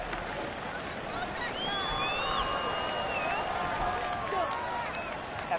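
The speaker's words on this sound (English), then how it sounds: "Plenty of shouts from this crowd as they watch the replay" Football stadium crowd shouting and roaring during a replay review at a Condors at Ravens game, a broad steady wash of distant crowd noise with whistles and shouts rising above it.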